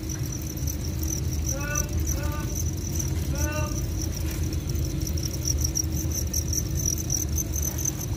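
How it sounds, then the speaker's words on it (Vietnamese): Crickets in a breeding enclosure, several short bursts of high pulsed chirping near the start and middle, over a constant low background hum and a steady high insect drone. "Đó dế mình kéo à."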